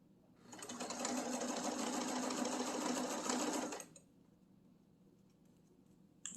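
A sewing machine stitches fabric in a steady fast whirring run of about three seconds, close and clear, then stops, leaving quiet room tone.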